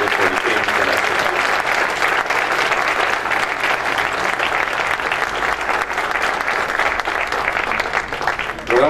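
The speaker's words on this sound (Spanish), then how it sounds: "Un fuerte aplauso, por favor" Loud, sustained applause from a large crowd at an environmental award ceremony, steady clapping filling the whole stretch without pause.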